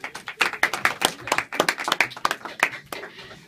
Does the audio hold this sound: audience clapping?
yes